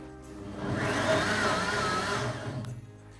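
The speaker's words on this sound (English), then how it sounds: "pop the lid on your food processor, your blender, and let's blitz until smooth" A food processor blitzes maple syrup, cherries and other vegan cheesecake ingredients, with a loud, steady whirring drone that starts up, holds for about two seconds and stops.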